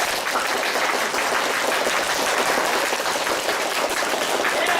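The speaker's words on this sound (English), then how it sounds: "If you think she did not confess, on the count of 3, clap your hands." An improv theater audience claps its hands together to cast a vote during an improvised Dungeons & Dragons show, producing a thick, even roar of applause that holds steady throughout.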